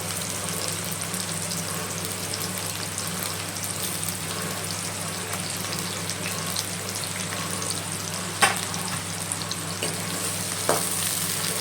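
Chopped onions and curry leaves fry in a pan on the stove over medium flame for an alasanda curry, giving a steady close sizzle throughout, with a couple of sharp clinks of a utensil near the end.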